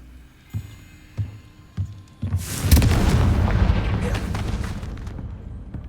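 A booming Confringo spell explosion goes off in a Harry Potter video game, a big rumbling blast that sustains for several seconds after a few soft thuds.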